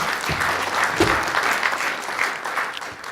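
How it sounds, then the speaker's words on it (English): Steady applause from an audience, a dense wash of many hands clapping throughout with no talking. "Let's give a round of applause to Yuri Ito."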